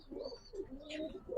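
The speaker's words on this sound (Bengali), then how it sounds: "অরিজিনাল এটা মাদ্রাজি কবুতর।" White Madrasi pigeons coo softly at close range, a few low rolling calls in quick succession with faint background noise.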